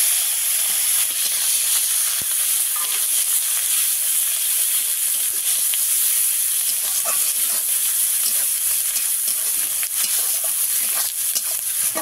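Onion paste fries in hot oil for an egg curry, giving a steady, close, continuous sizzle with a few faint stirring scrapes and no voices.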